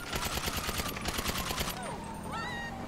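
A newly added gun in GTA 5 firing a rapid automatic burst of evenly spaced shots for under two seconds, followed by ringing tones and a steady hum.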